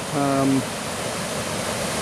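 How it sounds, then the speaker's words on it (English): Rainbow Falls, a river-fed waterfall in a state park, roars as a steady broadband wash, with a brief voice speaking over it at the start. "These are the Rainbow Falls."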